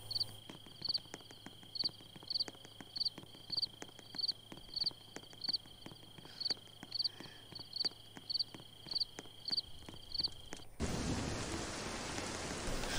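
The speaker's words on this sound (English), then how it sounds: "Beginning to rain on them again." Rain comes down at a camp in the last couple of seconds as a sudden broad hiss, after a long quiet stretch filled with a regular chirping insect-like pulse and soft ticks.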